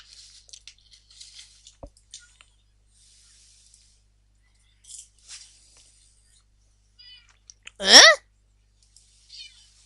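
Cat in the Minecraft video game giving one short, clear meow amid sparse quiet clicks and small game sounds, with no talking over it.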